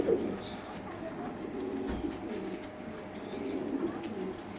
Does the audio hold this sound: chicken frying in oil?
no